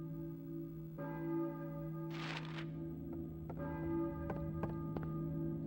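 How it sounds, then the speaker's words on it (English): Church bells toll in the Silent Hill video game on the PlayStation, sounding as slow, resonant strikes with long ringing tones over a low steady drone and a brief hiss. "We hear the church bells going."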